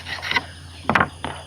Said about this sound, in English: You can see how I'm taking away some metal right there.